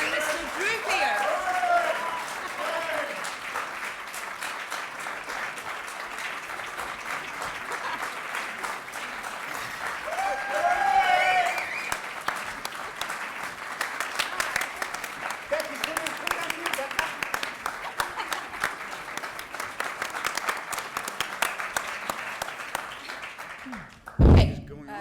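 Sustained audience applause fills a press conference for Iron Man 3 with Robert Downey Jr. and cast, a steady dense clapping roar lasting throughout, with a brief louder burst near the end.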